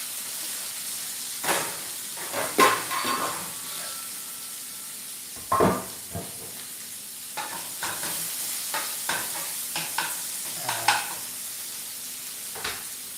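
Garlic sizzles softly in a pan while being stirred, giving a steady low hiss broken by repeated scraping and clinking stir strokes at close range.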